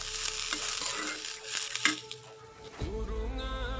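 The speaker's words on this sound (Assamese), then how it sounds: "এয়া একেৰাহে মই লৰাই আছোঁ যাতে তলত লাগি নধৰে।" Grated coconut being stirred as it fries in a hot wok for narikol sira, a steady scraping and crackling that continues throughout, ending in a louder burst of sizzle as something new hits the pan.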